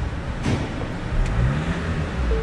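A Ford Transit Custom van engine revs up and down close by, rising in pitch briefly before settling back to a rough idle, on a van with a CAN bus communication fault.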